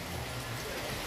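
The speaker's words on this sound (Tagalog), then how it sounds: "Grabe ang ulan." Steady, dense hiss of heavy rain pouring down, constant and enveloping throughout.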